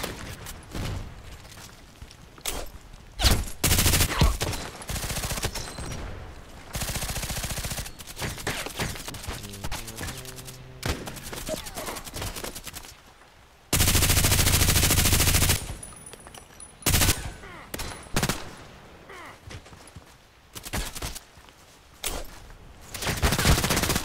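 Gunfire in the online shooter Contract Wars: repeated bursts of automatic rifle fire and single shots, some loud and close, others more distant, in irregular clusters with short pauses and no talking.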